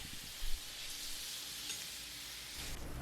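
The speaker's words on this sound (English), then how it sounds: "And you can go ahead and hear that meat sizzle." Diced steak for carne asada sizzles in a cast iron pan, a steady, moderately quiet hiss of searing meat that holds throughout with one brief clunk early on.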